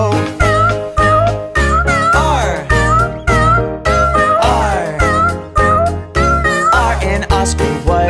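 In a children's nursery rhyme song about a farmer's cat, cat meows sound repeatedly in a steady rhythm over a bright, bouncy musical backing with singing, each meow short and prominent.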